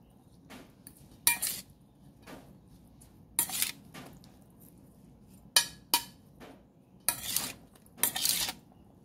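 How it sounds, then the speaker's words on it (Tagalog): A utensil clinks and scrapes against a bowl while a dish with chili is mixed, producing scattered bright metallic taps and stirring clatter in irregular bursts, close and fairly quiet, with no talking. "Mix natin ulit."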